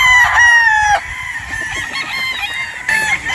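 A rooster crows loudly and close by while chickens cluck and squawk around it, with more crowing near the end.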